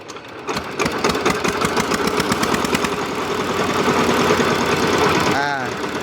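A farm vehicle's engine cranks over and catches, then settles into a loud, steady, rhythmic idle that chugs on without a break while people talk over it.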